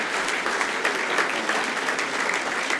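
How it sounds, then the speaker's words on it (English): An awards ceremony audience applauds volunteers with steady, dense clapping from a large crowd, continuous and even throughout, heard from within the hall. "So a round of applause for our volunteers,"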